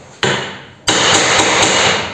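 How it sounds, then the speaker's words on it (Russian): A hammer strikes the nut on a metal rack to loosen it in a workshop: one sharp metallic blow, then a second louder one, followed by ringing and a few quick lighter taps, close and loud. "Здесь нужен спецключ. Ну мы по-простому молоток."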